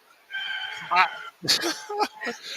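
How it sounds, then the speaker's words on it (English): A pet bird calls indoors in a house, a string of harmonic chirps and squawks in several bursts, close and fairly loud, with voices talking around it. "I keep hearing the bird."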